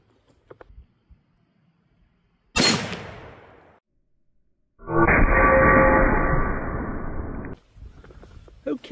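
A single loud 7.62x54r rifle shot cracks out sharply and decays into echo; a few seconds later someone talks at length before a second burst of voice.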